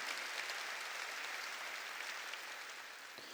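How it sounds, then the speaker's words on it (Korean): A church congregation applauds during a worship service, a steady, dense wash of clapping filling the room for the whole stretch without any voices over it. "깨달은 사람만 박수치라고."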